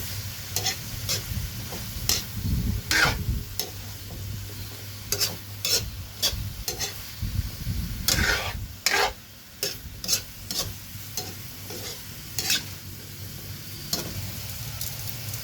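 Bitter gourd (ampalaya) cooking with egg in a frying pan, stirred with a string of sharp spatula scrapes and taps over a continuous close sizzle and a low hum, no speech.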